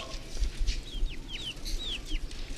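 Chickens and chicks at a Gilaki poultry sale, clucking and cheeping in quick, busy overlapping calls that repeat steadily close by, with no talk.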